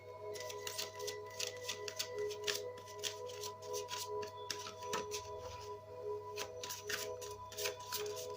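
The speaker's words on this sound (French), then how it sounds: "Alors là, je vais poser les cartes." Playing cards handled and laid out one by one during a tarot-style reading, a steady run of crisp close slaps and shuffling rasps with no voices.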